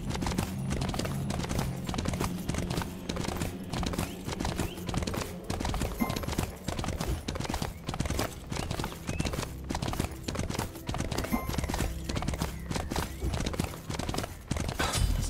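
A horse ridden by a knight in the Smite game, a 3v3 Joust match, clip-clops steadily at a brisk, even rhythm for the whole stretch, loud and close, with a whinny and game music and effects layered around the hooves.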